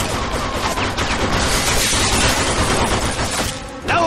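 Sustained automatic gunfire in the Mafia II video game, loud rapid bursts filling the scene almost continuously, with a brief lull near the end before firing resumes.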